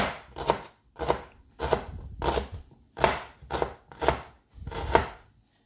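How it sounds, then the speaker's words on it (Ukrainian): A knife slices an onion thinly on a board, about nine firm evenly spaced cuts, close and clear with nothing else audible. "Спочатку замариную цибулю, наріжу її тоненькими пер'їнками"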